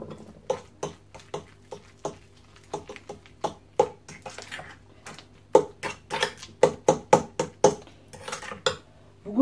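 Eggs being mixed for mayonnaise in a bowl: a run of sharp, irregular clinks and taps of a utensil against the bowl, close up and alone, growing denser and quicker toward the end.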